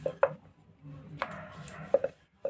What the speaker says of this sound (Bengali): এবার আমরা বেলে নেব। আমাদের কিন্তু ময়দা দিয়ে কিন্তু বেলতে হবে পরোটাটা।